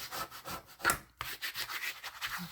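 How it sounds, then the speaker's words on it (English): A bone folder rubs back and forth over paper while burnishing it down in journal making, giving a close, steady dry scraping with a brief pause partway through. "Get out our bone folder, burnish it so that it stays on there."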